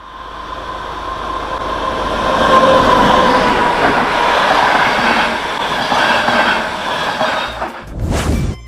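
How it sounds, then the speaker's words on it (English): A train rumbles past close by, a steady rolling roar with rattling wheels, ending in a brief sharp screech. "T for train."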